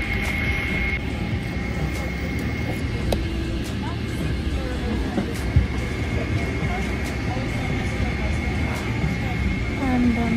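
Steady, loud airliner cabin drone on a final flight to India, an unbroken low roar that fills the whole stretch, with faint voices murmuring beneath it.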